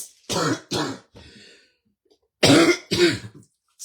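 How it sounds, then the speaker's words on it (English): Several harsh coughs and throat clearings from a person who is unwell, in two close clusters with a quieter wheezy stretch and a pause between them, loud and near with no speech. "Just having to put up with all of this coughing and that."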